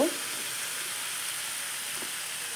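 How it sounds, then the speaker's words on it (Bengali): Potato and pointed gourd curry frying in a pan, a steady close sizzle and hiss with a faint stir near the start, no talking. "কিছুক্ষণ বাদে এবার আবার ঢাকনাটা একটু খুলে দেব, দিয়ে এটা একটু নাড়িয়ে নেব"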